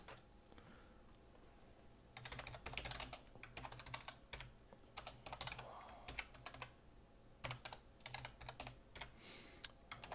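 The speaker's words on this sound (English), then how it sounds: "start typing some code here" Code being typed on a computer keyboard, with close, rapid bursts of clicking keystrokes in irregular runs and brief pauses, alone and fairly quiet.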